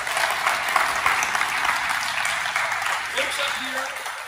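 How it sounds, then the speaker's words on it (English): Steady applause from a crowd at a Seattle mayoral bill signing for a transportation levy, dense clapping that holds evenly throughout and tapers slightly near the end. "Keep giving them a round of applause, please."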